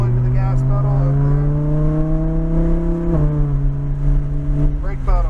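A Lamborghini Huracan on a track at Xtreme Xperience accelerates with a loud, steady engine roar whose pitch climbs, dips briefly at a gear change, then rises again, close up and continuous.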